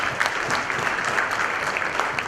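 An audience at a tech conference gives a warm round of applause, a continuous dense patter of many hands clapping at steady loudness throughout the short stretch.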